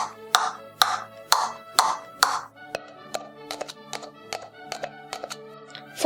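Foley made by knocking cups together: a run of hollow, ringing clacks, heavier and evenly spaced at first, then lighter, quicker irregular taps, close and clear with no speech.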